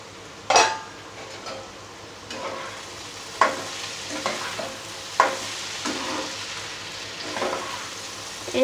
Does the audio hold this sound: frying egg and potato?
yes